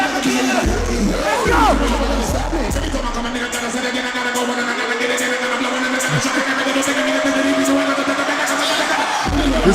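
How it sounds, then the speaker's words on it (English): A large crowd at a hip hop concert roars in a dense, continuous wall of cheering and shouting, with a voice talking briefly over it. "Listen to that crowd."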